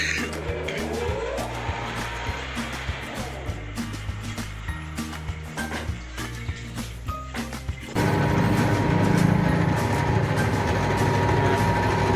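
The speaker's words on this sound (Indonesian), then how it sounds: "hidupkan mesin dengan tombol atau saklar yang dilakukan penyayatan pada benda kerja" A lathe runs during a workshop machining practical, cutting a workpiece with a steady mechanical drone and faint rattling, then growing louder and rougher for the final few seconds.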